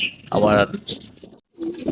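Pigeons coo briefly while feeding on scattered grain, a short soft call close by, overlapped by someone talking.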